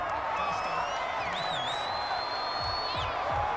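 Stadium crowd noise in a Madden 21 football game, a steady distant roar with faint whistling and cheering swells, running underneath without talk.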